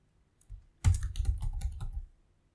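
Close, quiet keypresses on a computer keyboard while entering data into an Excel form: a single tap, then a quick burst of several keystrokes that stops abruptly.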